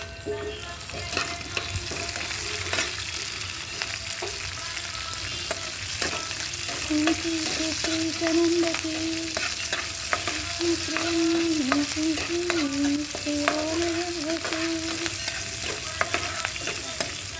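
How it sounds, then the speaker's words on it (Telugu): Onions and green chillies fry in a pan with a constant close sizzle, scattered crackles and stirring clicks throughout, and a faint wavering tone in the background, with no speech. "ఇప్పుడు ఉల్లిపాయలు వేస్తాను"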